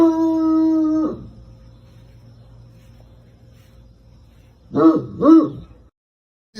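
A dog howls in a long sustained tone at first, then after a quiet gap gives two short howling yelps close by.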